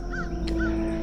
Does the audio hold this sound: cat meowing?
no